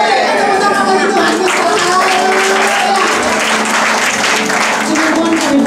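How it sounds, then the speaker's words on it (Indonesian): Congregation applauding together at a church service, a dense, steady wash of clapping that fills the room from start to finish at full volume. "Tepuk tangan bagi Tuhan."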